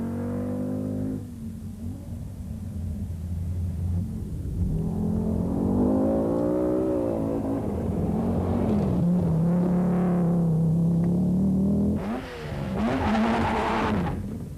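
Rally car from the 1986 Wesbank Rally blasting off the stage start, engine revving hard and climbing through the gears with rising pitch, a brief tyre chirp, then another surge of acceleration near the end, loud and close.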